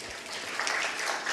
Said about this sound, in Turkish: Alkış alıyor Semih Saygıner.